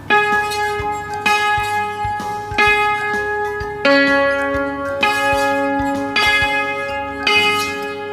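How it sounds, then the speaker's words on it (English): A yangqin with its strings squished together, struck notes ringing out with a bright, jangly metallic buzz and long sustain, about seven strikes in an uneven rhythm, close and loud. "all the 4 strings are squished together and it creates vibration between the string and result in buzzing sound like this"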